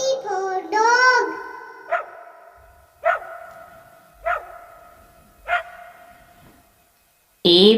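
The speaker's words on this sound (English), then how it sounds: "D for dog." A dog barks four times in a slow, evenly spaced sequence, each bark sharp and close, after a vocal call at the start and before a brief cut-off at the end.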